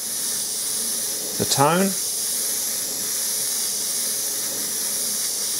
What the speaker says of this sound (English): spray it out so you can see what it looks like sprayed through the airbrush